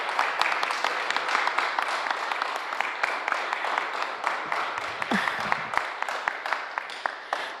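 Steady round of applause from an audience at a resolution presentation ceremony, dense and sustained for several seconds with crisp individual claps standing out, with little talk over it.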